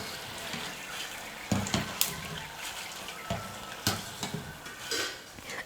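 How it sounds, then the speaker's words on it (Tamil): A semolina snack frying in hot oil while being stirred with a ladle, giving a soft bubbling sizzle broken by occasional close scrapes and clinks. "கலந்து கொடுத்துட்டே இருங்க, அப்போ தான் எல்லா பக்கமும் நல்லா பொன்னிறமாக வறுபட்டு வரும்"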